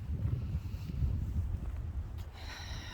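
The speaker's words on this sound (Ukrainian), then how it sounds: "Ой, чекайте, вітер, може нічого не буде чути." Low, rumbling wind buffets a microphone steadily, with a faint higher tone near the end.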